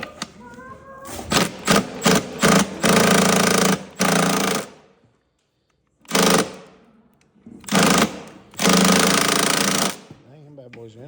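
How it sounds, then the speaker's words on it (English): A drill bores out rivets on the air box of a 2009 Yamaha Raptor 700R ATV in loud, close, rattling bursts. The bursts stop and start several times, with short gaps between them. "we gotta get this air box out, get the rivets drilled out"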